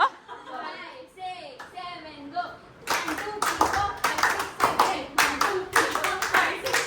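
Loud hand claps snap out in a quick irregular burst during Indian wedding dance practice, following a stretch of people talking and laughing nearby.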